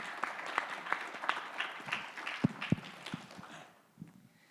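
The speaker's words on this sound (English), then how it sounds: "Let's make a big round of applause and welcome our next pitcher" Audience applause welcomes the next presenter at a startup pitch event, a moderate burst of scattered claps that thins out and fades to near silence toward the end.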